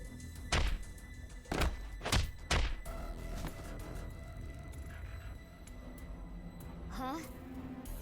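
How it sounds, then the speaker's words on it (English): A punch lands in AI: The Somnium Files – Nirvana Initiative, a few heavy thuds striking in quick succession, loud and close, followed by lighter rustling and game ambience. "Why did you punch him out of nowhere like that?"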